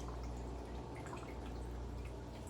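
Water from an Eheim canister filter spray bar runs down aquarium glass, a quiet continuous trickle with soft drips and a low hum beneath, no voices.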